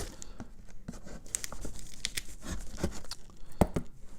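Scissors cut into an unboxing package up close, with repeated sharp snips, crinkling plastic and tearing cardboard in quick irregular bursts, and no talk.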